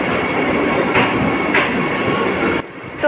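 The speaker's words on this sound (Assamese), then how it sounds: "বন্দে ভাৰত ট্ৰেইন গৈ আছে" A Vande Bharat express train runs past on its way to Pathsala, a steady loud rumble of wheels and cars that rises with a few surges before dropping off sharply near the end.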